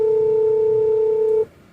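A steady, loud electronic telephone tone holds for about a second and a half, then stops abruptly, leaving faint background hiss.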